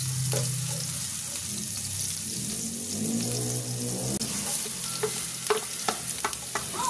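Onion and garlic sizzling in a frying pan, a steady close hiss of frying with irregular scraping stirs and clinks of a utensil against the pan throughout.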